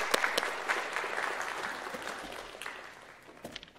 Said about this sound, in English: let's give Erin a big thank you and round of applause